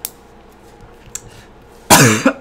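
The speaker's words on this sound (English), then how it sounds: "oh, the coughs are coming, gang" One loud, harsh cough bursts out near the end, preceded by a couple of faint clicks and quiet room noise.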